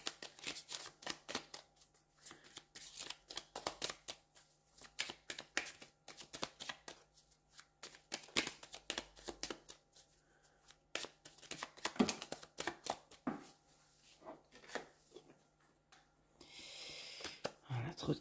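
Tarot cards are shuffled by hand in a series of quick, crisp riffles and slaps, close and fairly quiet, with short pauses between bursts.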